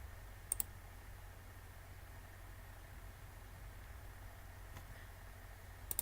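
A computer mouse gives a quick double click near the start and another pair at the very end. The sharp, close, light taps sit over a faint steady hum in an otherwise quiet room.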